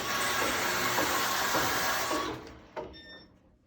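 A Passap E8000 knitting machine knitting a blanket gives a steady, close mechanical whir and rattle of the carriage for about two seconds, then winds down and stops, with a short clack and a faint fading hum at the end.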